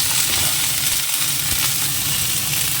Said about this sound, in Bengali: ভাজা হয়ে গেছে এবার থানকুনি পাতাটা দিয়ে দেওয়া